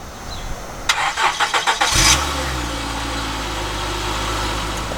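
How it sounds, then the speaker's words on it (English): A Honda Accord V6 cold-starts: a starter cranks in several quick rhythmic pulses, the engine catches with a loud burst, then settles into a steady, low, close idle. "let me start you guys off with the cold start, because I know everybody loves an Accord cold start"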